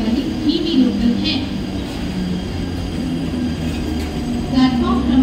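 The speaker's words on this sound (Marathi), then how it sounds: "प्लॅटफॉर्म क्रमांक 1 वर आलेली लोकल 10:51 कल्याणला जाणारी धीमी लोकल आहे" A Mumbai local train at a station platform rumbles steadily under echoing announcements, with faint squeals and clanks in the busy station hubbub.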